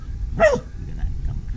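Dog barks once, a single sharp mid-clip bark at close range, followed by quiet background noise.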